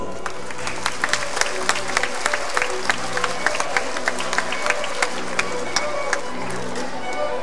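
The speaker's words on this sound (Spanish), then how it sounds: "para los cuales pido un gran aplauso" An audience at a 2014 pastorela performance applauding loudly and steadily, with distinct individual claps standing out above the dense, continuous clapping.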